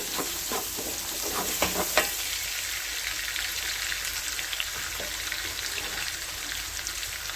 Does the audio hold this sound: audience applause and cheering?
no